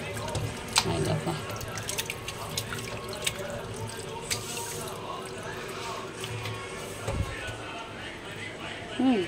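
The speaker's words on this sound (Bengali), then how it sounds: "মাংসটা ধুয়ে নিই ভালো করে" Running tap water splashing and dripping in a sink as raw chunks of meat are rinsed by hand, steady close trickle with occasional clatters, while someone talks throughout.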